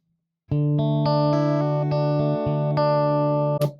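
An electric guitar played through a Flatsons TR-U2 wireless guitar system rings out a brief phrase of held notes and chords after a short silence, bright and close, finishing with a quick scratchy cutoff.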